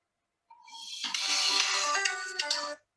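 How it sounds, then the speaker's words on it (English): An incoming call rings on a mobile phone, a short tonal blip and then a bright, loud electronic ringtone melody that plays alone for about two seconds and cuts off. "As you can see, guys, I get a phone call."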